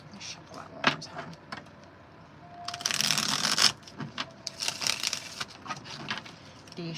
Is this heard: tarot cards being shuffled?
yes